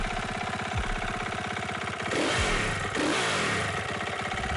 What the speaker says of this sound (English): Now that is the sound of the KTM 450 motorbike that you can actually play in the game.